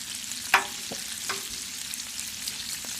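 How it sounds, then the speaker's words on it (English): Bacon and eggs fry on a Blackstone griddle with a steady close sizzle, broken by a few sharp scraping taps of a spatula on the flat top. "we're cooking on Blackstone again today. Cooking up some bacon, some eggs."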